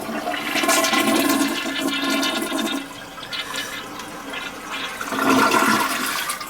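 Mansfield toilet flushing with a loud rush of water that dips briefly, then surges again as the tank tries to refill through a fill valve that is not filling properly, no talking.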